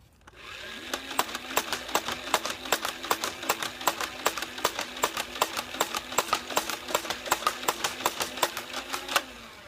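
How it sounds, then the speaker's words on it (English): An Air Warriors Ultra-Tek motorized toy blaster fires foam darts in a rapid, steady stream of sharp clicks over a constant motor whir, close and fairly loud, for nearly ten seconds. "Firing test with the included Air Warriors ammo."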